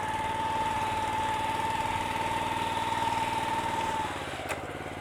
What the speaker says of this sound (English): I'm trying to keep the mower as flat and as even as possible as I'm moving up and down the grade